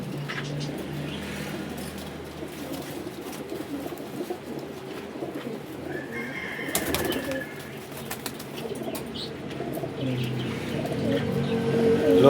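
Pigeons coo softly amid a group of birds at a pigeon market, with low steady background noise and passing traffic; no talk.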